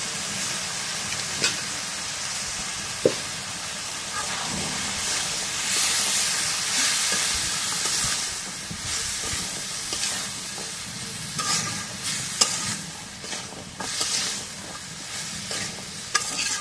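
Cut potatoes fry with spices in a hot pan, giving a steady close sizzle and hiss. Repeated scraping strokes and occasional clinks of the utensil run throughout, with no voices.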